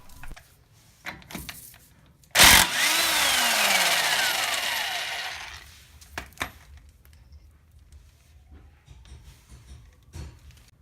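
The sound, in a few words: removing drive shaft bolt with wrench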